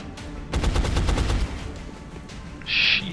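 Video game gunfire from XCOM: Enemy Unknown: a loud rapid burst of about a second of close automatic shots, followed after a pause by a short bright electronic tone.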